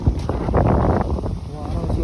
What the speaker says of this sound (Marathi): वाराचा आवाज येत असेल तुम्हाला